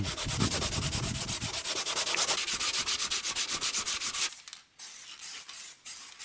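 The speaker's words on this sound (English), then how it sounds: "now we'll just go over it with a piece of sandpaper" Sandpaper rubbed by hand over a BMW E46 330ci interior panel after the old material is stripped, fast rhythmic back-and-forth scratching strokes close up, then a pause and a few slower, lighter passes.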